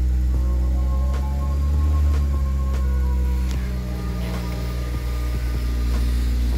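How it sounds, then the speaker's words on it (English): A 2006 Honda Civic Si engine running with its RPM raised after a Seafoam spray treatment; a steady, close, droning hum that swells slightly early on, with a few faint clicks and no talking. "raise the RPM a bit."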